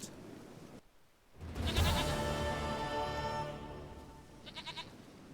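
A goat in The Witcher 3 lets out one long, wavering bleat close by, rising after a brief silence and trailing off into a fainter bleat at the end.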